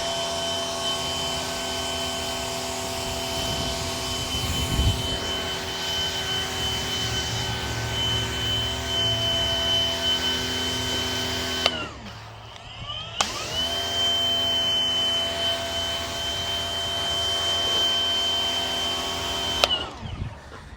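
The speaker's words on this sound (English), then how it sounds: "so you can hear the motor pick up here." A Fanttik NB8 Ultra cordless pressure washer runs on its high setting with a loud, steady electric whine. The motor cuts out for about a second midway, then spins straight back up to full, even pitch.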